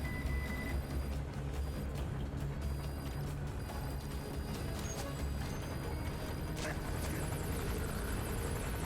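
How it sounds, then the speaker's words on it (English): A helicopter in Metal Gear Solid V: The Phantom Pain thrums steadily with rotor chop beneath game music and ambient effects, moderately loud throughout with no talking. "Where'd the chopper go?"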